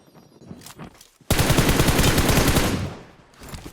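Sustained rapid automatic gunfire from M416 and P90 rifles in the PUBG Mobile video game, a loud, dense burst that opens abruptly after quieter scattered shots and tails off over a couple of seconds.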